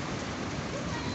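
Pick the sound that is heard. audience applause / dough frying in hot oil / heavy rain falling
heavy rain falling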